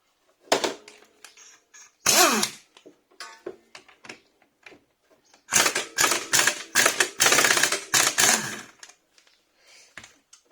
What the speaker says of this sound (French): là on va utiliser la clé à choc